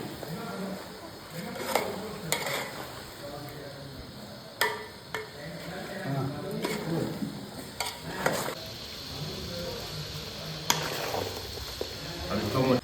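Biryani being stirred in a hot pot, with a spoon or ladle repeatedly scraping and knocking against the metal over a steady sizzle, close and fairly loud, with voices talking intermittently.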